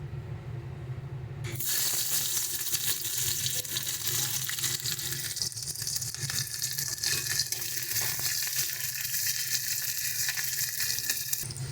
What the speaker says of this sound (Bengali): তেলটা গরম হয়ে গেছে। এবার এর মধ্যে আমরা পেঁয়াজ ফোড়ন দিয়ে দিচ্ছি